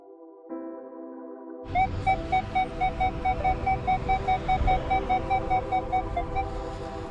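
Minelab Equinox 800 metal detector emitting a steady, repeating high beep tone, pulsing rhythmically for several seconds after a brief lower start, indicating a quarter-sized coin target.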